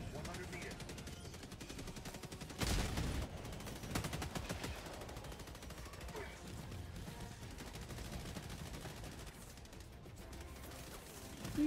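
Bursts of rapid automatic gunfire and scattered shots from Helldivers 2 crackle steadily through the scene, with a sharper, louder volley partway through, mixed under game ambience while people talk.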